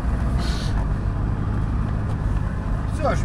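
HUMMER H1 engine accelerating off-road, a steady, dense low rumble and drivetrain drone heard from inside the cab, continuous and fairly loud throughout.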